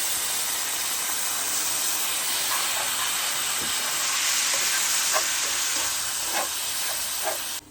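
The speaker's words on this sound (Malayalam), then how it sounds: "ഇനി നമുക്കിതിലോട്ട് ശകലം ചൂടുവെള്ളം ഒഴിച്ചു കൊടുക്കാം." Hot water is poured into a pan of frying prawn roast from Kerala, setting off a loud, continuous hissing sizzle with steam bursts and a few crackling pops, and it cuts off sharply at the end.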